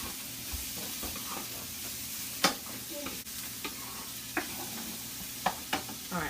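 Vegetables and cauliflower sizzle in oil in a frying pan under a steady hiss, with repeated scraping taps as a utensil stirs them, close and moderately loud.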